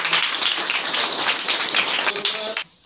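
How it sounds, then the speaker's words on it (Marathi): A crowd at a school event gives a warm round of applause for the first municipal president, steady dense clapping that fades out abruptly at the end. "सर्वांनी त्याचं टाळ्या वाजवून त्यांच्यासाठी"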